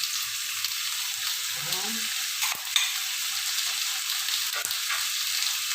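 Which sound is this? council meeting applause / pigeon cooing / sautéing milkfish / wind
sautéing milkfish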